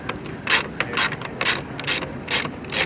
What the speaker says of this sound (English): you're going to get your 10 millimeter socket, and you're going to remove two screws there